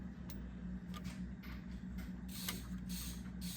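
Faint mechanical creaks and small ratcheting clicks come from a pedal linkage on a 1970 Triumph TR6 as it is loosened and adjusted by hand, close up and quiet with no talking.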